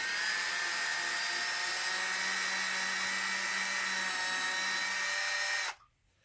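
A power drill on a low torque setting loosens factory screws on a Losi DBXL-E RC truck, whining in one continuous, loud, close run for several seconds before cutting off abruptly.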